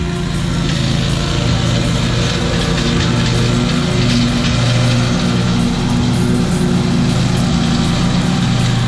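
A lawn mower runs steadily in a small backyard, its engine drone loud and close throughout with a constant hum and no pauses.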